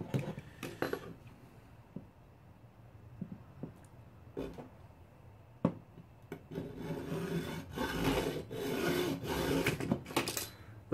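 A hand saw cuts through a plastic Nerf Nite Finder blaster part clamped in a bench vise, with rasping strokes that start irregular and grow into a steady, louder back-and-forth rhythm close by.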